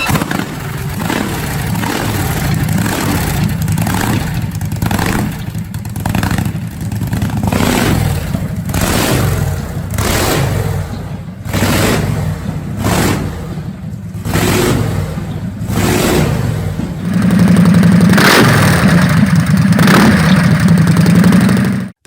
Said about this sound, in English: The bike boasts a 5-litre Rolls-Royce Merlin engine with a supercharger and NOS